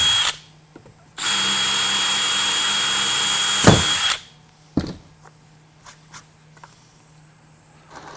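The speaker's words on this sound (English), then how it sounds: "Move it out of the way and then drill your rest of your hole." A power drill bores through the wheel housing of an edge caster tag wheel in one sustained, loud whir lasting about three seconds. A few sharp knocks and clicks follow in near quiet.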